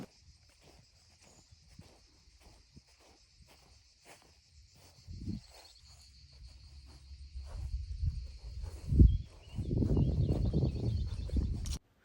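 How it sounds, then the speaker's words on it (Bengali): Steady, shrill crickets trill beside an Italian lake with occasional faint bird chirps, while louder rustling and crunching footsteps build nearby toward the end. "এখানে পাখি আর যে ঝিঝির ডাক ছাড়া তেমন কিছুই শোনা যাচ্ছিল"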